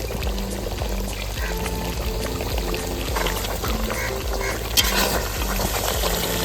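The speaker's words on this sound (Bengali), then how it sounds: "অল্প যে রসুন বাটাটা রেখে দিয়েছিলাম সেইটা এবার দিয়ে দিচ্ছি।" Duck curry with garlic paste bubbles and gurgles in a pot, giving a steady, close simmering texture with a brief louder splash near the end.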